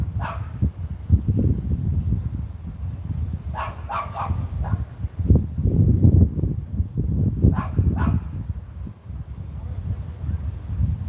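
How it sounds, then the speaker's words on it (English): Dogs barking outdoors at the scene of a street accident: repeated bursts of barks in clusters, moderately close, over background rumble with some faint voices. "Your dog's getting triggered by the other dog."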